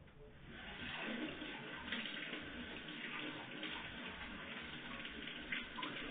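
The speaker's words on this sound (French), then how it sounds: "maintenant je vais laver la gomme avec de l'eau" A school eraser rinsed under a running tap, a steady, fairly quiet rush of water splashing into a sink that carries on unbroken for several seconds with no talking.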